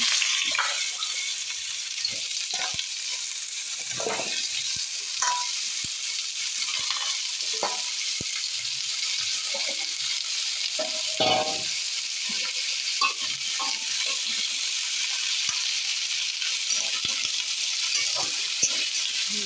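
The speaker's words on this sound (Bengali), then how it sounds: "আলুটা একটু ভেজে নিচ্ছি।" Potatoes frying in hot oil in a pan, a dense, steady sizzle with scattered crackles and pops and occasional stirring scrapes, close and continuous without talk.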